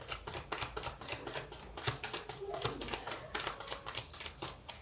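Tarot cards shuffled and drawn in a reading, giving a steady run of crisp riffling flutters and soft slaps, close and fairly quiet, with no voices.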